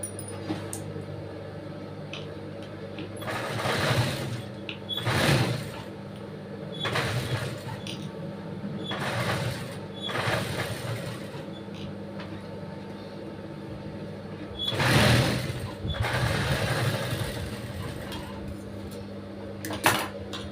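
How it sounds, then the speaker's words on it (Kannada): A sewing machine stitching fabric for lining and cutwork runs in several separate bursts of steady whirring, each a few seconds long, with quieter gaps between them and no talking. "ಹಂಗೆ ಸ್ಟಿಚ್ ಮಾಡ್ತೀನಿ ಅಂದರೆ ಎಲ್ಲ ಕಡೆ ಈ ರೀತಿಯಾಗಿ ಸ್ಟಿಚಿಂಗ್ ಸ್ಟಿಚಿಂಗ್ನ ಹಾಕ್ಕೊಳ್ಳಿ"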